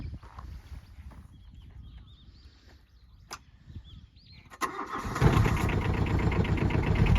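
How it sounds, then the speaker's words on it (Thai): A Komatsu PC03 mini excavator's small engine cranks and starts after a quiet stretch with a few clicks, then settles into a loud, steady running rumble nearby. "เครื่องยนต์นิ่มๆนะคะ"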